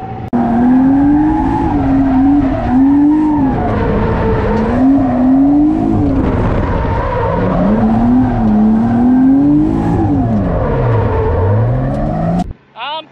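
A car drifting on a track with the handbrake pulled, tires squealing in long wavering whines over a loud engine drone for most of the time, then a brief cut near the end; voices talk faintly underneath.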